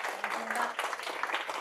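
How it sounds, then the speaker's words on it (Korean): An audience at a talk by an author applauds, a dense, fairly loud burst of clapping with speech mixed in. "오늘 우리 마음속에 잊지 못할 따뜻한 시간을 만들어주신 박현 작가님께 다시 한번 아주 큰 박수 부탁드리겠습니다."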